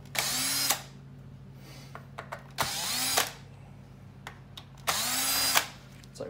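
A power screwdriver backs Phillips screws out of a Shark Ion RV700 robot vacuum during teardown, giving three loud whirring bursts of about a second each, separated by small clicks and quiet handling noises.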